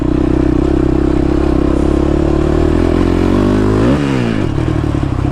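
A motorcycle engine with a rejetted carburetor and slow jet idles loudly and steadily up close, then briefly revs up and settles into a rougher, uneven idle.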